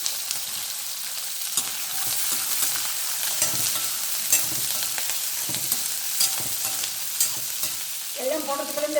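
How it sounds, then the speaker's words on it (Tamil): Small onions and curry leaves fry and get stirred in a pan for small onion chutney, with steady crackling sizzle and scraping spoon strokes under it, and a brief louder clatter near the end. "சின்ன வெங்காயம் போடுறேன்"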